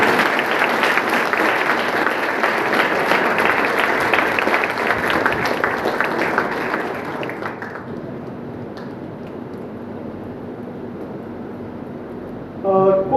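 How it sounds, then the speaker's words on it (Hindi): Sustained audience applause fills an award ceremony hall, dense and steady for about seven seconds before thinning to a quieter room murmur, with a brief burst of clatter near the end. "ताली रुकनी नहीं चाहिए।"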